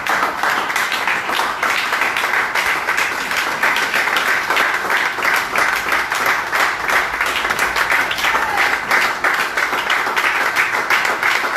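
A church congregation claps steadily and loudly during a worship service, a dense, continuous wash of applause and acclamation that holds even throughout without pause.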